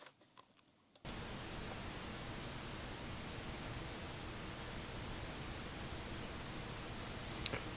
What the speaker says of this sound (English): No, it's not changing the level of the hiss at all.